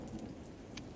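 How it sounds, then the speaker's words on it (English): Steady rainfall sound effect with a distant thunder rumble underneath, played during a Dungeons & Dragons tabletop session; a soft, continuous wash of falling rain with a few brief brighter patters. "Rain falls on the slumbering statue of young Mezek"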